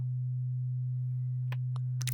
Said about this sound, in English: this is a pure sine wave